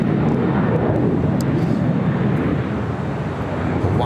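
A fixed-wing airliner roars down the runway on its takeoff roll at LAX, a loud, steady, broadband jet rumble that fills the whole stretch without a break.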